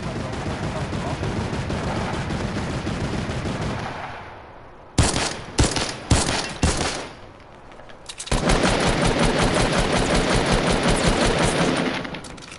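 A turret machine gun fires in a video game, rattling out long rapid bursts at close range. The firing breaks into a few separate loud shots, pauses briefly, then resumes as a sustained stream.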